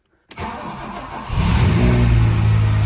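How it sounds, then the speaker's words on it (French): A rally car engine cranks with a sharp starter burst, catches, then swells into a loud, steady rumbling rev close by, with no talk over it. "Attention, démarrage comme sur les Porsche à gauche."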